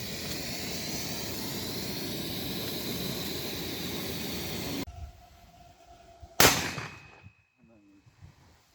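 A long roaring hiss gives way to a sudden single sharp blast outdoors from a gas cannon used to scare off wild boars, followed by fading echo and quiet.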